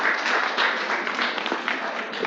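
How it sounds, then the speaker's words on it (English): A crowd applauds with dense, steady clapping that carries on without a break, fairly loud and close. "Please give a big round of applause for Iksan."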